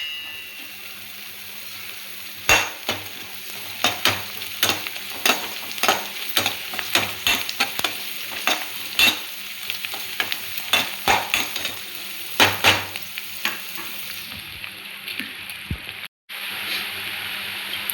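Cut green chillies fry for gobi manchurian in a pan, giving a steady sizzle under busy, irregular stirring scrapes and clinks of a spoon against the pan, with a brief dropout near the end.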